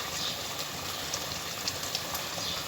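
Ghee or oil poured onto beef in a pot for a korma gives a steady, close, dense hiss and sizzle that runs unbroken throughout, with no voices.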